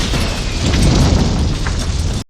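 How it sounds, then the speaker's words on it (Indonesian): A time bomb planted inside a man's body detonates in an action film, a loud, dense, sustained rumble with heavy low-end roar that holds for about two seconds before cutting off abruptly. "bom yang tertanam di tubuhnya meledak."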